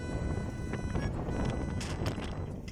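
Strong sandstorm wind in Jeddah city buffets the microphone with a dense, continuous low roar, and faint rattles and brief gusty hisses sit on top of it.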